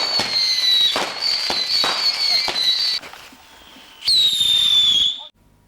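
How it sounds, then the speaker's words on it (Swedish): Fireworks at an Easter celebration whistle and crackle in quick bursts, with sharp rising shrieks and rapid pops for several seconds, a brief lull, then one more loud whistling rocket that fades out. "Fyrverkerier."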